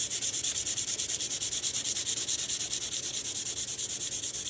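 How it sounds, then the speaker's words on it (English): 120-grit sandpaper rubs steadily back and forth over rough aluminum in fast, even strokes, a dry hissing scrape that stays close and loud with no voices. "120 grit sandpaper."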